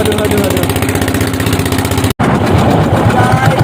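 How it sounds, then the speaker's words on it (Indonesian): A small fishing boat's engine runs steadily with a loud, even mechanical drone and rhythmic chugging, briefly cutting out to silence before picking up again, out at a river mouth during mini-trawl shrimp fishing. "mesinnya sudah mulai"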